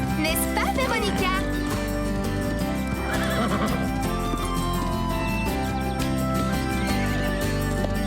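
Prancer, a show-jumping horse, lets out loud neighs and whinnies over hoof clip-clops and a full, steady music bed.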